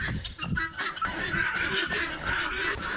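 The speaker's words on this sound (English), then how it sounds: "here's the guinea hens. Gotta assert myself around the guinea hens." Guinea fowl give raucous, repetitive calls overlapping in a noisy, continuous chorus, harsh and close, with no speech.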